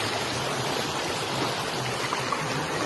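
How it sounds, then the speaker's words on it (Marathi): Fast-flowing stream water rushing through a Konkan creek at night, a steady loud broadband roar close by with no pauses. "पाण्याचा झोत बघा केवढा फास्ट आहे"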